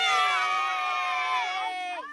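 Young children at a rugby practice let out a loud, sustained group cheer of high-pitched shouting voices for about two seconds, tapering off at the end.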